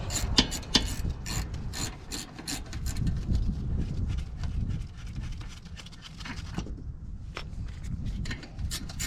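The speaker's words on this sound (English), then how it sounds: "Loosen up your slide pin caliper bolts." A ratcheting wrench loosening the brake caliper slide pin bolts on an Infiniti Q50, heard close up as rapid clicking ratchet strokes in repeated bursts with brief pauses.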